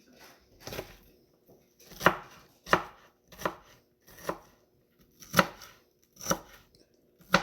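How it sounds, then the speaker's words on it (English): A knife chops vegetables for chicken and dumplings on a cutting board, with eight crisp, spaced strikes at a loose, uneven rhythm, close and clear, with near silence between cuts and no talking. "Roll up the sleeves and start chopping away at everything."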